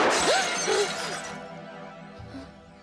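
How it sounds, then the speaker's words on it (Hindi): Glass shattering as a sound effect in a Hindi horror and suspense story: a loud, sharp crash at the start, followed by tinkling debris that fades over about three seconds, with no talk. "अरे, ये कैसी आवाज है? शीशे टूटने की लग रही है।"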